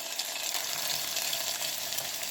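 Garlic paste and other ingredients sauté in a pan for Puerto Rican stewed beans, giving a soft, steady, even sizzle that sounds fairly quiet and close, with no talking.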